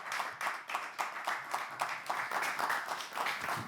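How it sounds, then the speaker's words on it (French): A studio audience applauds a guest being welcomed onto a French television show, a fairly dense patter of claps that swells in uneven waves and holds steady throughout, with no talking over it. "merci d'applaudir"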